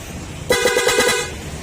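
A sharp, nasal PIAA horn on a Honda Click 125 scooter blares in a quick series of short honks, loud and close, after a brief stretch of quiet.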